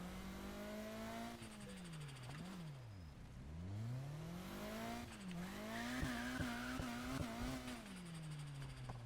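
A car's engine revs in a racing video game, its pitch swooping up and down through several gear-like rises and falls, then settling into a steady high drone with brief tyre-squeal accents and no talk.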